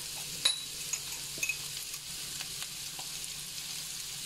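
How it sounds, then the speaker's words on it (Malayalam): Onions sauté in oil left from frying chicken, cooking down into a masala for chicken biryani. A soft, steady sizzle runs throughout, broken by occasional light clicks of stirring, with no talking. "ഈ സവാള നന്നായിട്ട് വരട്ടിയെടുക്കണം. ചിക്കൻ വറുത്ത ആ എണ്ണയിൽ തന്നെ വേണം നമ്മൾ ഈ ഒരു മസാല റെഡിയാക്കിയെടുക്കാൻ."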